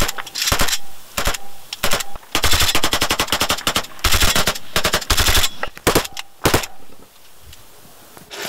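A machine gun fires from a front-line trench near Bakhmut in loud, close bursts of rapid shots separated by short pauses, with single shots toward the end.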